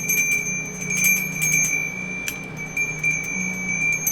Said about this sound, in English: So I'm going to ring the bell too,